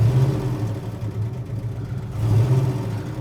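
A 1970 Chevrolet Chevelle SS-style engine revs twice from inside the car, a low steady rumble swelling near the start and again after a brief dip, close and fairly loud.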